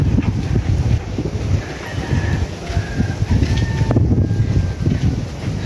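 Steady strong wind roaring and buffeting the microphone outdoors at a gamecock farm among banana trees, with faint bird calls in the background.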